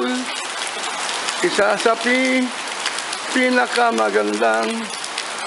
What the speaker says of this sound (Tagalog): Umuulan, umuulan dito sa Arroyo High School.